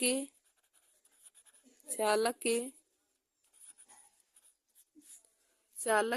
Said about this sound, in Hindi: तो हम यहाँ पे लिख देंगे कि